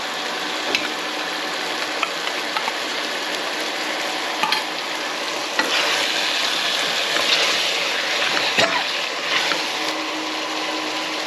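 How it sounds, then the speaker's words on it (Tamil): Marinated mutton sizzles and fries steadily in a pan for biryani, a continuous close hiss with occasional scrapes and clinks of a stirring spoon. "ஊற வச்ச மட்டனை போட்டு நல்லா வதக்கணும்"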